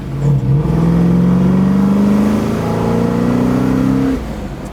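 A 1977 Ford Bronco's V8 engine rumbles up close, its pitch rising steadily as it revs, then settles back to a throaty idle.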